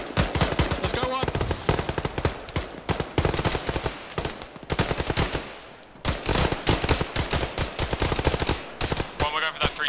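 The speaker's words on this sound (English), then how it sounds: "Two, suppressive fire." Suppressive machine gun fire in the Arma military video game, long rapid bursts of loud close gunshots repeating across the clip with short pauses, with faint voices at times.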